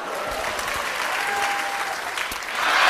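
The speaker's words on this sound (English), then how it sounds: "Give her a big round of applause." An audience at a magic show breaks into steady applause, a dense wash of clapping that grows louder near the end, with a faint voice partly underneath.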